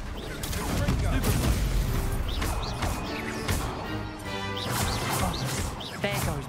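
Spell combat in Hogwarts Legacy, including the Confringo explosive spell: a continuous loud mix of crashes, whooshing casts and impacts, with voices speaking over it.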